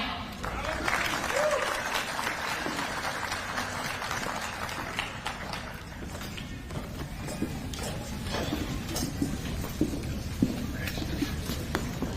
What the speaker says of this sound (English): Let's give these graduates another round of applause.